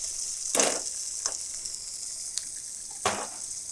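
Potato and capsicum sizzle in hot oil in a pan on a raised flame, a steady close hiss broken by a few sharper stirring scrapes and bursts, with no talking.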